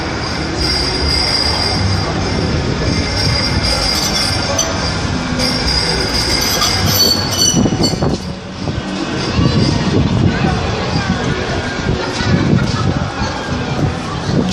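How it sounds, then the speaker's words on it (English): An Ultra tram approaching the Market Street stop, its wheels squealing loudly in high piercing tones over heavy rumbling rail noise, close by and continuous throughout, with a brief dip midway. "Now approaching, it's an Ultra tram"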